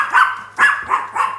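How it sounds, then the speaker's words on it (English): A dog barks several times in quick succession during a podcast recording, the loud, close yaps coming in an uneven rhythm with no talk over them. "that's Ethel trying to bark her way onto starring role in the podcast"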